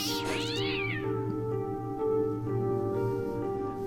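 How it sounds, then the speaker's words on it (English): A cat in the video game Fran Bow gives a drawn-out, wavering meow over a steady droning musical background, close and clear with no talking. "Put the freaking cat down on solid ground"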